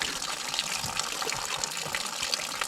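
Cold spring water runs steadily from a pipe set up at a mountain campsite, a continuous close gushing splash with no pauses and no talk.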